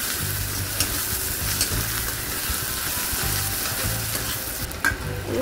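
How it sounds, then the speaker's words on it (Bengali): Chopped onion, garlic and dried chili fry together in hot oil as a tempering for thin lentil dal, a loud constant sizzle broken by the rhythmic scrape and clatter of stirring. "এবার দিয়ে দিলাম পেঁয়াজ কুচি, রসুন কুচি, সবগুলো একসঙ্গে সুন্দর করে ভেজে নেব।"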